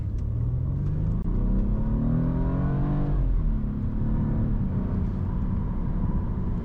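A stock BMW F30 328i accelerates hard in sport mode, engine note climbing steadily in pitch before a gear change drops it and it climbs again, loud and steady from inside the car with no speech.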